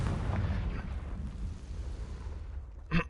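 A Confringo fire spell exploding in Hogwarts Legacy gives a heavy, rumbling blast that fills the moment and fades into a low roar, with a short sharp pop near the end.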